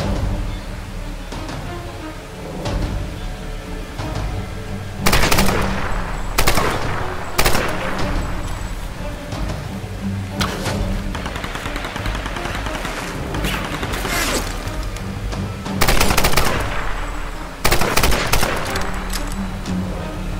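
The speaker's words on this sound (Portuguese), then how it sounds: "vários tiros na cabeça" Gunfire in Tomb Raider Definitive Edition crackles in repeated bursts, loud rapid volleys over a constant background of game noise and music.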